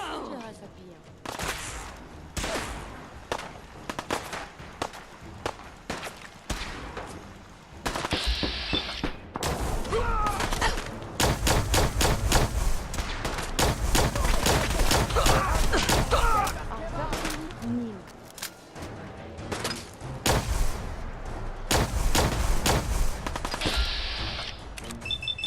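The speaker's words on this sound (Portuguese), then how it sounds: "Eu não vi essa metralhadora aí." Rapid bursts of machine gun fire from the Fallout 4 video game, loud and sustained with repeated volleys, mixed with other game sounds and some talk.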